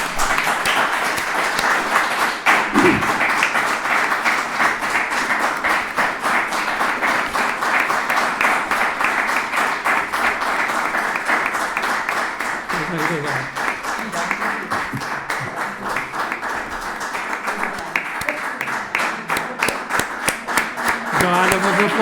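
Sustained applause from an audience at a talk on Inca in the popular songbook of Mallorca, dense steady clapping lasting the whole stretch with a few faint voices mixed in.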